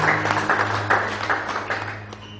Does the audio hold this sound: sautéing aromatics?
no